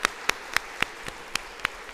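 Audience at a primary school graduation claps for its teachers, though only a sparse, slow series of about eight distinct, evenly spaced claps is heard, crisp and close over a faint background.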